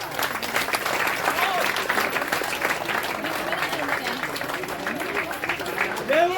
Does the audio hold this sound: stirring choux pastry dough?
no